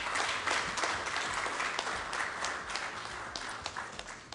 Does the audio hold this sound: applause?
yes